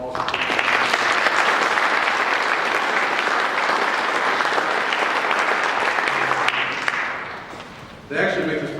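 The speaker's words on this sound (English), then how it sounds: "give yourselves a big round of applause" Loud, sustained audience applause at a state address, filling the room evenly before tapering off, with a voice briefly breaking in at the very end.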